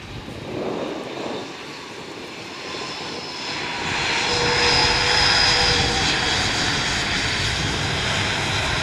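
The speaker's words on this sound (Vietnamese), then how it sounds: "chiếc máy bay đang nhanh chóng hạ cánh xuống đường băng 25 phải và sẽ di chuyển vào nhà ga T3" A Vietravel Airlines airliner touches down on runway 25R at Tan Son Nhat airport and taxis toward terminal T3, its engine roar building steadily and holding loud, with a rising whine over broadband rumble.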